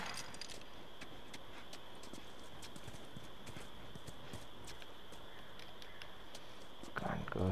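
Horse hooves clip-clopping at a walking pace in the video game The Last of Us Remastered, a steady rhythm of light hoof strikes over a constant faint ambient hiss, quiet and mid-distance.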